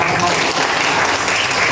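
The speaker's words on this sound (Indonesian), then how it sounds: "Kasih tepuk tangan dulu dong." Applause from a class of students in a madrasah tsanawiyah lesson, a steady dense wash of many hands clapping close by, filling the whole short stretch with little pause.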